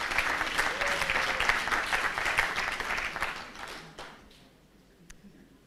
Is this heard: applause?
yes